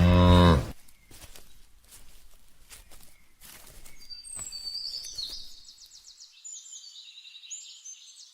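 A cow lets out one loud, close moo at the start. Faint clatter and scattered birdsong follow as the sound fades.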